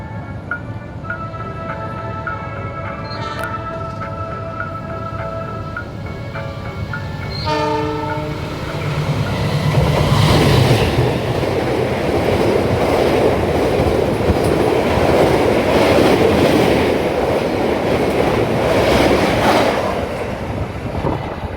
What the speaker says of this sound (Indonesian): Mari kita tunggu aja kereta api Sembraninya melintas langsung di stasiun Trisi